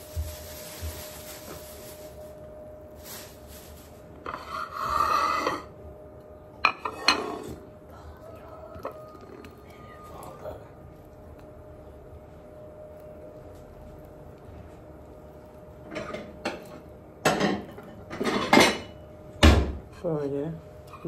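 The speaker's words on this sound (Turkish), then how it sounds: "Peynir sevmediği için peyniri ben doğruyorum." A knife chops cheese and banana on a board at an outdoor breakfast, giving scattered taps and clinks of cutlery and dishes in short bursts, with quiet gaps between them.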